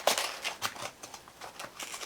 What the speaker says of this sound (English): these ones always have to like try and open with scissors.